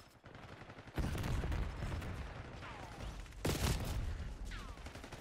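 Call of Duty Black Ops 6 gunfire, likely from the Tanto .22 SMG, loud dense bursts of rapid shots with a brief lull before another heavy volley.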